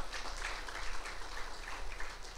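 A church congregation applauding, a sustained wash of many hands clapping at a fairly even, moderate volume, with no voices standing out above it.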